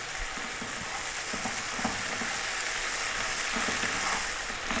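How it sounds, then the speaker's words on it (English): Onions sizzle and fry steadily in a pan for a lamb curry, a continuous close crackling hiss with faint stirring scrapes and no talking. "So those onions are cooking down nicely."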